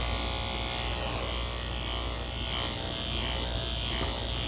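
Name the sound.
electric clippers with 1/2 inch guard grooming a Goldendoodle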